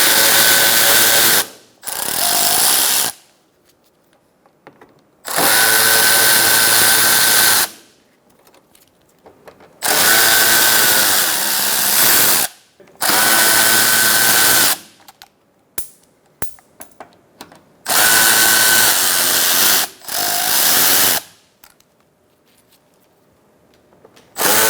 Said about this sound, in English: remove your Torx bit screws